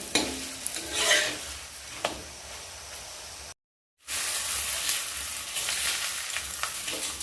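Parathas frying on a flat tawa griddle give a steady, close hiss and sizzle with occasional scraping, broken by a brief moment of silence midway.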